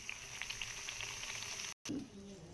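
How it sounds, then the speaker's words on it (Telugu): Semolina (Bombay rava) biscuits deep frying in hot oil give a steady, soft bubbling sizzle that runs alone and quietly, with a brief dropout near the end. "ఆయిల్ హీట్ అయ్యాక ఒక్కొక్కటి నెమ్మదిగా వేసి ఫ్రై చేసుకుందాం."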